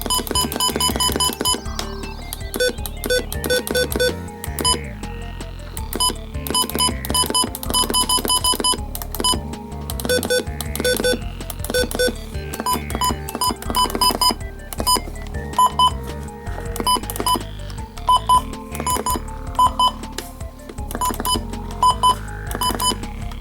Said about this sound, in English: the button beeps on the Retekess TR625